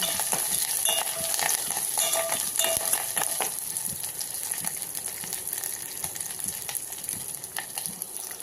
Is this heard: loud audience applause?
no